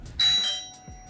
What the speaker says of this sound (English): I don't know if you heard that, but there is a doorbell as well.